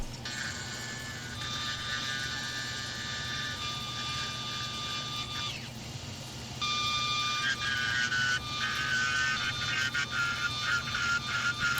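A drill bores a hole into a walnut block for a worm screw in a woodturning shop, a steady high whine that stops briefly midway and starts again, running alone at a moderate level over a low background hum.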